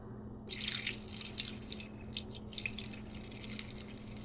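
Water trickles and drips into a Thermomix bowl, a steady splashing stream with small irregular spurts, close by and fairly quiet, with no talking.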